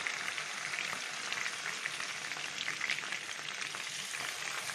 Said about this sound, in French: vous commencez à cuire côté peau